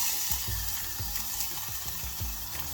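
Onion sizzling in a small amount of hot vegetable oil in a pan on a hob, a steady crackling hiss with a few soft stirring knocks, close and moderately loud with no talking.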